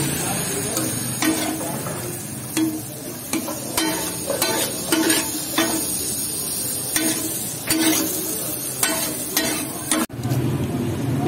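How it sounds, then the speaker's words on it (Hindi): Tikka masala cooking in a pan after yogurt is added at a Rawalpindi food stall, a steady sizzle with frequent stirring scrapes and clatter of utensils against the metal, plus busy background noise. "अब दही ऐड कर दिया गया इसमें, तो ये समझे फाइनल स्टेज आ चुकी है।"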